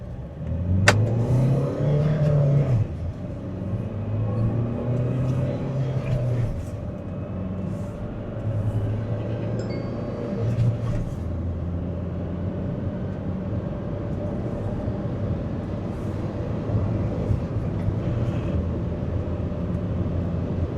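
A Mahindra XUV 3XO compact SUV with a 1.5-litre four-cylinder diesel engine pulls away and accelerates, a steady low engine drone rising in pitch heard from inside the cabin, continuous and moderately loud, with a brief click at the start.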